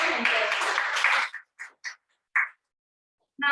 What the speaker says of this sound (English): big round of applause for himself